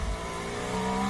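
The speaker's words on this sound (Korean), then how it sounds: "자동차가 시끄럽게 내고 있는 높은 소리의 엔진음" A high-pitched Formula 1 race car engine whines at a nearly constant pitch, loud and steady throughout.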